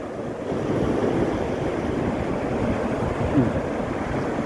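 Strong morning surf at Payoon Beach in Ban Chang, Rayong, makes a continuous, full roar of breaking waves mixed with wind buffeting the microphone, with no talking.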